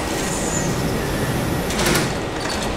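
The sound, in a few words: Berlin U-Bahn DL70U train in the video game Trainz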